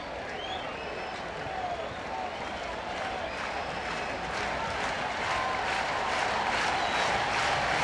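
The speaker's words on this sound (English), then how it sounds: "Crowd roaring." A baseball stadium crowd at a 1983 Fourth of July game roars steadily throughout, a dense, broad wash of cheering that swells slightly toward the end.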